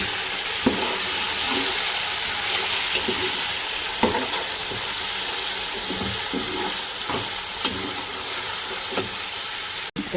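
Sliced tomatoes and finely chopped green chillies fry for beef biryani with a continuous sizzling hiss, punctuated by soft clicks and stirring taps.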